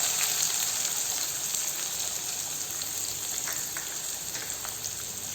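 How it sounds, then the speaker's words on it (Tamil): Steady, even sizzling of onion frying in hot oil for tempering, close by, with a soft crackling texture and no voices. "இப்போ வெங்காயம் இது கூட சேர்த்துக்கலாம் தாளிக்கிறதுக்கு."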